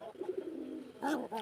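Local pigeons in a pigeon farm coo close by in winter, a low rolling throaty call followed by a couple of louder, rising coos.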